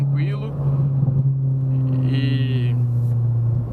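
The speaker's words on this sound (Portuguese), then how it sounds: "dá pra curtir aí o ronco do carro" A Ford RS climbing a wet mountain road in fourth gear, its engine giving a steady low roar throughout, with someone talking over it now and then.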